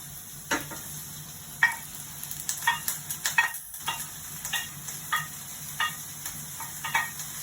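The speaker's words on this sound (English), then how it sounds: "slide them in, get a little sizzle" Onions and mushrooms sizzle steadily in a hot pan, with scattered clicks and scrapes of stirring on top, close by and with no talking.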